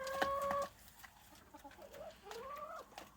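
A hen clucks nearby in a quiet evening setting, giving a few soft, separate calls that rise and fall, with no talk over them.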